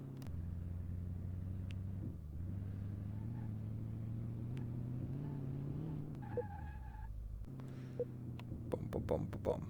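Monster truck built in Car Mechanic Simulator VR rolling over a suspension test track, a steady low engine drone with shifting pitch, a brief gap, then clunks and knocks from the suspension near the end, with a voice talking over it.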